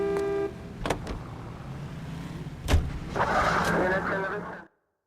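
A car in LA Noire: a couple of sharp door thuds, then an engine starts and revs steadily for a second or so before cutting off abruptly into silence.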